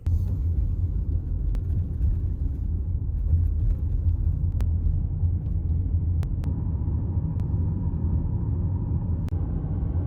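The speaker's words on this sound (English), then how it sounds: "Now it's time to drive back down this hill" Car driving back down a desert hill near Death Valley at dusk, a steady low engine and road rumble continuing evenly throughout with no voices.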